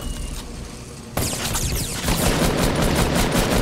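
Rapid automatic gunfire crackles in a Fortnite match, beginning abruptly after a quieter stretch and continuing as a loud, steady stream of close shots.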